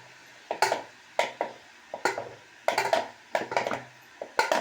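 Cooked white chickpeas being mashed in a pot for channa masala, a steady series of rhythmic scraping and thudding strokes of a utensil against the pot, close and alone.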